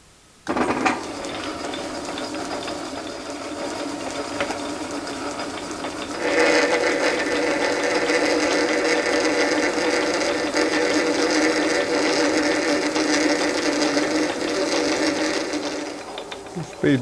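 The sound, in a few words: lathe cutting right-hand threads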